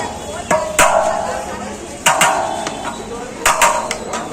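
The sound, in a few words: cutting open sealed biryani pot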